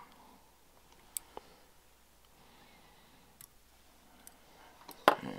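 Scissors snipping thread tag ends while tying a coho salmon fly: a few faint, sharp clicks spread out over a quiet background, ending with a louder snip-like burst.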